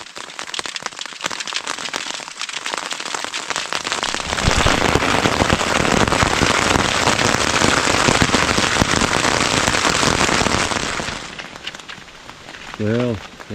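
Rain drips off the trees on a windy day in the North Woods, a dense crackling patter that swells louder midway, then eases back, with a brief voiced sound near the end.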